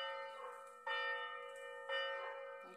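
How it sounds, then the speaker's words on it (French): Church bells ring outdoors in a rural setting, with two or three clear ringing strikes whose tones hang and overlap, moderately distant and fairly faint, with no talking. "le bruit des cloches"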